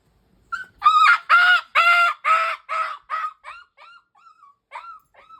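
A dog yelps and cries in pain, a loud burst of high, strained yelps that trails off into softer whimpers, close and alone without talk.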